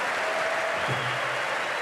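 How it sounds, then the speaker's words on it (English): Steady applause from a tennis crowd at the US Open during a women's first-round match, a broad even wash of clapping filling the stands with a faint voice underneath. "And the crowd appreciating the Swedes' persistence."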